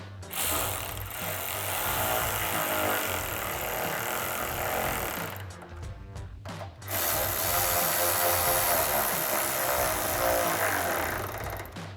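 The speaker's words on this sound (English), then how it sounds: "And we'll secure it with our 10mm socket." A power tool spins a 10mm socket while securing a 2005-2009 Mustang headlight. It gives a loud, sustained whir close by, breaks off briefly partway through, then resumes just as steadily, with no talking.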